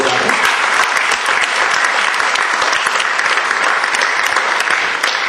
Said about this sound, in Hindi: मैं चाहूंगा कि आप मेरे लिए एक बार उनके लिए सब लोग ताली बजाएं।